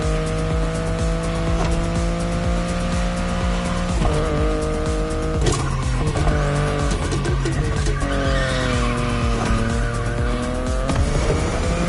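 A BMW i8 in The Crew Motorfest racing game, loud sustained engine note rising and shifting through gears with repeated tire squeals and skids, continuous and close, no talking.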